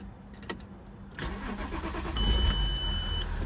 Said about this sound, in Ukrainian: Зараз заведемо автомобіль.